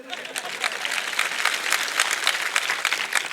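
Audience applause during a live speech, a sustained burst of many hands clapping, dense and fairly loud, with voices mixed in.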